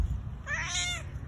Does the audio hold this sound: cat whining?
yes